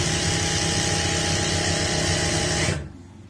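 A sewing machine stitches an elastic waistband onto palazzo pants, giving a close, steady motor whir that runs continuously for almost three seconds, then cuts off abruptly into near silence.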